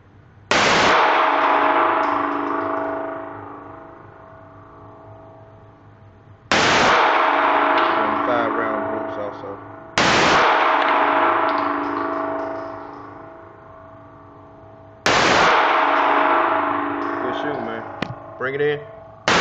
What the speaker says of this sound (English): He's shooting the top left circle.